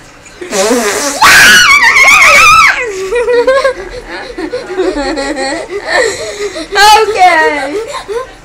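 A girl screaming and shrieking in loud bursts mixed with laughter and giggling, the sharp high cries rising and falling over several seconds close to the microphone.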